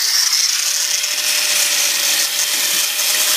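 A 4-inch hand grinder with an abrasive disc running steadily, a loud, even high-pitched whine and hiss held close throughout with no pause or talk.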